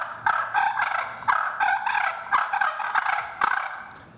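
A vintage slate turkey call scratched to imitate fighting turkeys, giving a rapid, raspy run of loud, close purrs and clucks in uneven bursts.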